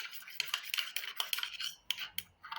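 A utensil stirs food in a pot, making faint, irregular clinks and scrapes that come in quick bursts with short pauses, close but quiet, with no talk.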